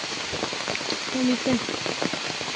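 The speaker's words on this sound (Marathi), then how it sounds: "पाऊस पण बड़ा आ गया है" Rain hisses steadily in the background while a voice speaks briefly over it.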